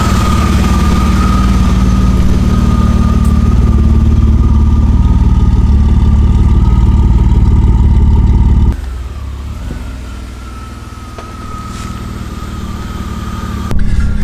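A BMW E36 engine idles loud and close with a steady, slightly uneven rumble, dropping to a lower, quieter idle partway through before picking back up.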